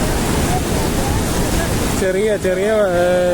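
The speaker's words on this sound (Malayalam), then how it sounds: "ഒച്ച കേട്ടോ വെള്ളത്തിന്റെ" A steady roar of rushing water from a low waterfall near Jabalpur, Madhya Pradesh fills the scene, and a voice begins talking over it partway through.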